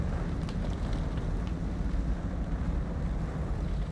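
A Hummer H2 engine running steadily in the snowy off-road driving game SnowRunner, a continuous low rumble that stays loud and constant with no talking.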